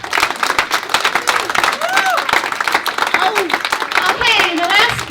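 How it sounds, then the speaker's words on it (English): Crew and audience applaud at a Christmas concert, with continuous lively clapping and crowd noise throughout, mixed with whoops and cheers rising over the applause. "So, guys, applaud your audience."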